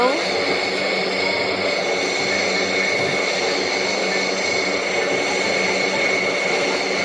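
A turboprop airliner's engines roar at takeoff power in Turboprop Flight Simulator, a loud, steady, unbroken drone that holds for the full stretch without letup.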